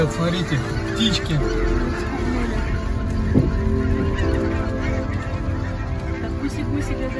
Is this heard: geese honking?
yes